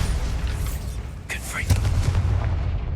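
Bombarda explosion spell cast in Hogwarts Legacy gives a couple of sharp blasts, then a deep, rumbling boom over steady low game ambience.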